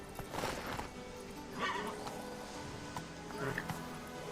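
A horse in the video game The Witcher 3 whinnies in short, clear calls over a steady clip-clop of hooves, with game ambience running throughout.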